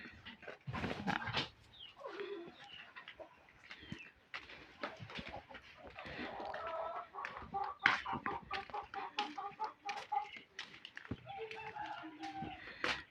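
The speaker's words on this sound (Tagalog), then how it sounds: "So, naman ako pumawag sa manok." Chickens cluck and squawk near and far in a rural yard as they are called in for feeding, with other birds and an occasional dog mixing into the lively chatter.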